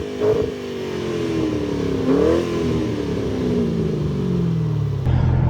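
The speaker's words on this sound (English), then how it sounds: "When I got the car, it had Ford Racing axlebacks and it sounded like this." A Ford car fitted with Ford Racing axleback exhausts revs up from idle, rising and falling through a couple of throttle blips before settling back, loud and close.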